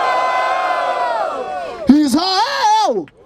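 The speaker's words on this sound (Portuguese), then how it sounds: "Vamos lá, barulho para as rimas da Ravena." Crowd at a rap battle, the 130th Batalha da Aldeia in Barueri, São Paulo, swelling into loud cheering and whooping with a sustained voice in front before the noise cuts off abruptly.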